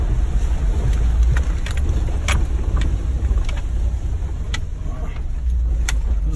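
A 1998 Jeep ZJ 5.9 Limited crossing water on an off-road trail, with a steady loud engine rumble under rushing wind and water noise and scattered splashes and knocks.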